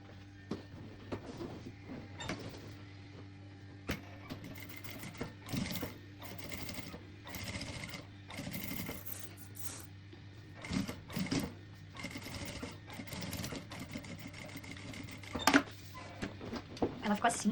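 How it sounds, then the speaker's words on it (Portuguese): A sewing machine stitches a seam along bias binding on a waterproof bag changer, running in short whirring bursts with pauses and a steady hum beneath, while someone speaks over it at moderate distance. "Vamos passar uma costura bem onde a gente já passou aqui nesse viés"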